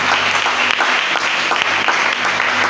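A church congregation applauds steadily and loudly throughout, a dense wash of clapping hands with no pauses and no speech over it.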